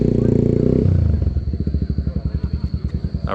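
A Suzuki V-Strom 800DE motorcycle on a test ride, its engine throbbing loudly up close, first in a steady drone and then in a rapid pulsing beat as the revs drop.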